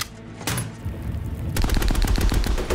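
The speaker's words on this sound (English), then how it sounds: "Shoot him, Bible!" Gunfire from a scene in the 2014 World War II film Fury: a single loud shot, then a dense rapid burst of machine-gun fire filling the second half, close and harsh.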